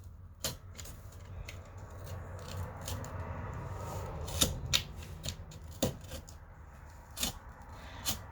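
Cardboard from a box is cut into a shape with rounded corners, heard as quiet, close, irregular snips and scraping rubs with a few sharper cuts and no speech.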